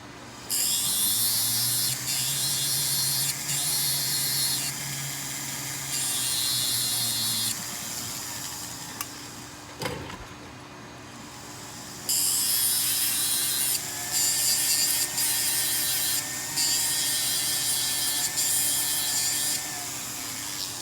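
Hand sanding on the back of a new rhodium-plated white gold ring, a steady rasping scrape in repeated bursts of several seconds with brief pauses, up close, and a faint low hum underneath.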